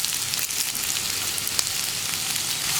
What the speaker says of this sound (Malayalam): സവോള ഒന്ന് നന്നായിട്ട് ബ്രൗൺ ഷെയ്ഡായി വരുന്നത് വരെ നമ്മൾ ഇളക്കി കൊടുക്കുക